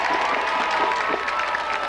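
A crowd at a high school football game on parents day applauds and cheers for the seniors and their parents, a dense, steady wash of clapping with scattered shouts, heard at a distance.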